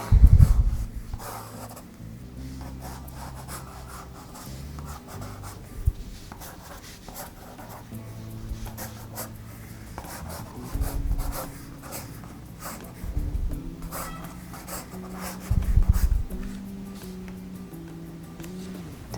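Pencil or pen scratching and rubbing on paper while a minimalist portrait is drawn in an art class, with soft irregular strokes and occasional light taps and knocks, close and quiet, with no speech.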